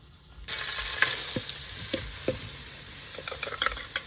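Dried fish stir-fried in a hot pan for a home-style Thai banana-stem curry, with a steady loud sizzle that starts abruptly and several sharp scraping stirs of a utensil against the pan.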